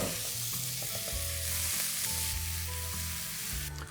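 Chopped onions frying in a pan for egg keema pulao, a steady close sizzle with stirring and tossing throughout.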